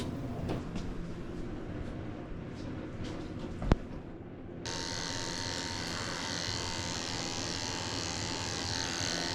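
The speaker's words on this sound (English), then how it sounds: "I'm using a 10 blade to shave out the insides of his ears" Electric clippers with a 10 blade switch on and buzz steadily while shaving the insides of a senior Shih tzu mix's ears at a groomer, after a quieter stretch with a sharp click.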